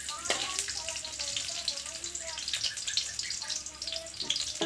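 Garlic fries in a pan with a steady, crackling sizzle and scattered pops that run throughout, while someone talks faintly in the background.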